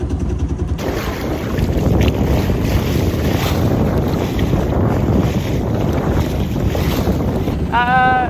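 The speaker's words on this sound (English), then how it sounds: "Looks like it's time to put sails up. We got enough wind." Strong wind buffets a sailboat at sea, a constant close roar of gusts across the microphone over rushing water, with a brief high chirping tone at the very end.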